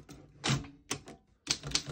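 1935 Underwood 11 vintage desktop typewriter struck in quick clusters of sharp, loud mechanical key clacks close up, with short pauses between the bursts.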